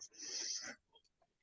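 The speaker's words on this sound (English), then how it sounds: "Breathe in" A single soft, breathy inhale during a guided reflection exercise, faint and close, lasting under a second and followed by near silence.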